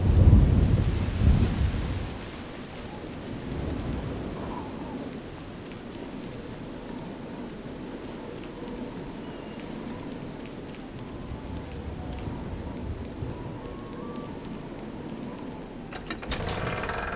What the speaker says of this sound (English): That's a storm. That's not just rain.